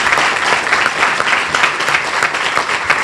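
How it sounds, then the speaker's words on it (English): Applause from a crowd for panelists at a Manatee County School District event, loud and sustained with thick overlapping claps, nearby and without speech. "Would everyone please just give our panelists and the people who came up a round of applause?"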